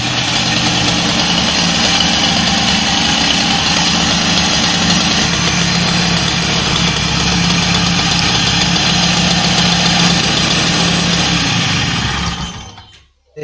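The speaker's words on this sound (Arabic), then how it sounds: "ما بقالنا كان باش نخدمو الموتور ونجربو" A Peugeot 103 moped's small engine runs steadily at a close, loud, buzzing idle for over twelve seconds, then cuts out abruptly.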